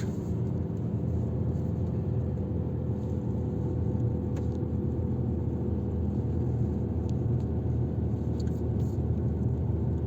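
A Fiat Egea Cross 1.4 climbing a winding mountain road, heard from inside the car as a steady, even engine drone and road rumble lasting throughout, with no talking over it.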